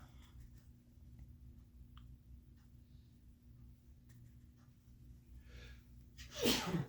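A single sharp sneeze bursts out near the end after several seconds of quiet room tone.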